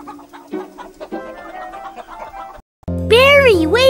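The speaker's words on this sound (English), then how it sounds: "So the chickens were unloaded." Several chickens cluck in short, uneven bursts, followed by a louder, sustained crowing-like call rising and falling at the end.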